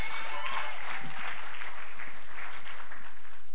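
An audience at a literary fair breaks into steady applause, dense and continuous clapping filling the whole moment with no talk over it.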